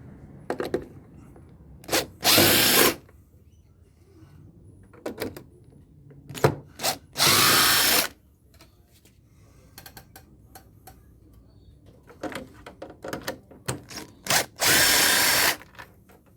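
A power drill backs screws out of an air conditioner head during teardown, firing in short buzzing bursts of a second or so, several in a row, with clicks and metallic handling between them, close and fairly loud.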